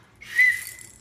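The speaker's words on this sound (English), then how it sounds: "this is a terrible whistle, now I know I need to get a better one" A cheap, weak hand-held emergency whistle gives a single short, breathy blast. The tone is thin and airy, swelling briefly and then fading, with no voices during the blow.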